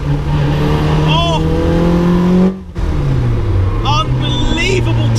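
A Caterham 420R sports car engine revs hard in second gear, its note climbing loud and close before a brief gap, then pulling again with whining rising tones; someone talks over it.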